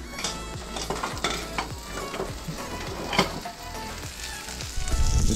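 Fish fries in butter in a pan, a loud continuous sizzle broken by repeated scrapes and clinks of a utensil against the pan, alone without talking.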